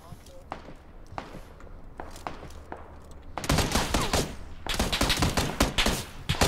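Gunfire in the battle royale game PUBG, quiet at first with scattered single shots, then heavy bursts of rapid, close shooting in the second half, with faint footsteps mixed in.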